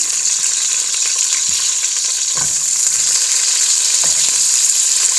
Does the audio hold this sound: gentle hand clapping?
no